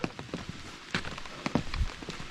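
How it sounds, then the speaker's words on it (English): Light rain patters steadily on a surface nearby on the Appalachian Trail in Pennsylvania in autumn, with scattered drips and a few footsteps-like thuds. "Just a little rain."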